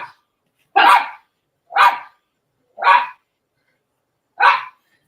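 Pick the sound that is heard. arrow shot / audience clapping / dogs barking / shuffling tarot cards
dogs barking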